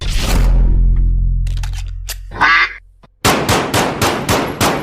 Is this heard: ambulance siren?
no